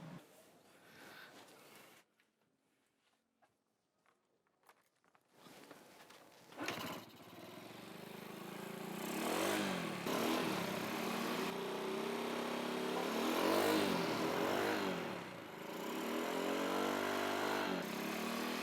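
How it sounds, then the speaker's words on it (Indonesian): A used motorcycle being checked by a prospective buyer sits quiet for a few seconds, then its engine starts and runs loudly up close, with repeated revs rising and falling over a steady rumble. "Boleh coba suara mesinnya?"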